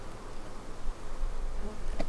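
Honey bees buzz steadily inside an opened hive during an early spring nectar flow in Georgia, a continuous close hum lasting the whole moment with no voices.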